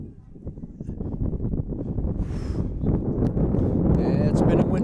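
Wind buffets the microphone outdoors at a varsity boys lacrosse game between Christian Brothers Academy and Rumson-Fair Haven, a steady low rumble that grows stronger toward the end, with commentators talking over it.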